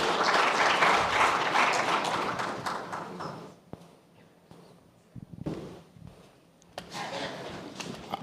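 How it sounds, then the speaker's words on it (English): Audience applause for a panelist taking the stage at a mining industry conference, dense and loud for about three seconds, then fading into scattered claps and taps before a brief second swell of clapping. "Please, a round of applause."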